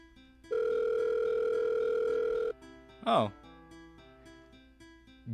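A phone call in the visual novel Doki Doki The Blue Seas gives a steady two-second dial tone, then a short rising chime and a lighter ring, over faint game music.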